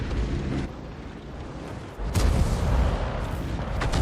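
In a war video game, an artillery shell from a Hummel self-propelled gun explodes as a deep, rumbling boom that swells midway through a constant roar of battle noise.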